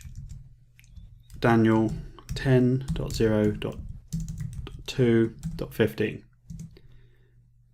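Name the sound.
typing an SSH command on a computer keyboard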